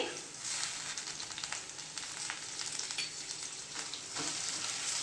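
Green chillies and curry leaves crackling in hot oil with onions, a faint but constant hiss with brief bursts of spitting and light stirring.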